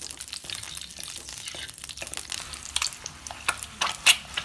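Eggs frying in a pan while being prepared for a dhaba-style Tamil egg curry, giving a soft, steady crackle and faint sizzle with scattered sharper pops and crinkly stirring scrapes, no voices.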